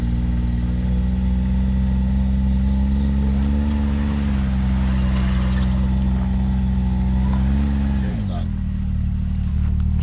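Vehicle engine stuck in a deep hole, held at a steady strained rev under light throttle before the pitch drops near the end, loud and close, while people talk over it.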